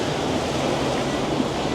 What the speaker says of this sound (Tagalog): grabe yung alon, right? And hangin, obviously, no?